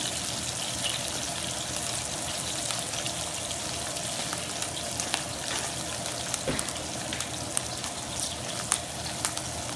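A steak searing in a very hot oiled pan, a steady broadband sizzle with faint crackles running throughout at moderate level, no voices.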